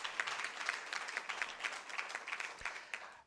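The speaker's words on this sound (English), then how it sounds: "I think a round of applause to all the finalists is wanted now" An audience claps for the finalists at a university teaching and learning awards ceremony, a steady patter of applause that sounds moderately distant and thins out toward the end.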